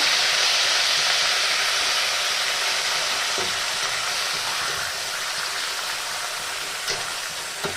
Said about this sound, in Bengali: এবার আমি পাট শাকগুলোকে এর মধ্যে দিয়ে দেওয়ার পর একটু সামান্য পরিমাণে জাস্ট ভাজা ভাজা করে নেব